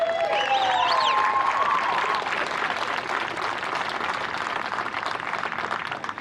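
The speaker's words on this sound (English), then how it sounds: "Give them another round of applause, folks." Crowd at a community college softball tournament awards ceremony applauds steadily, dense clapping with a few whistles and cheers near the start, sustained throughout at moderate loudness.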